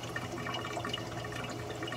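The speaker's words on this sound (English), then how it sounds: "It's almost like there's a suction or something coming from the pipe, and it's just causing like this gurgling sound" Water gurgling and bubbling from the pipe at the top of the bulkhead on a Clear Water Scrubbers CW-50 algae scrubber that has problems, a continuous close burble that is fairly quiet and heard without talking.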